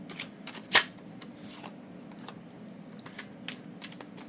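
Tarot cards being shuffled, one loud riffle burst near the start followed by soft scattered flicks and taps of the deck, close and quiet with no speech.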